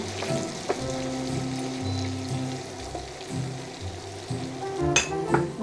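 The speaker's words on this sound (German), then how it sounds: "und die Zwiebeln glasig andünsten" Half an onion softening in butter in a frying pan, a soft, steady sizzle close by with occasional clinks of utensils against the pan and low background hum, no talking.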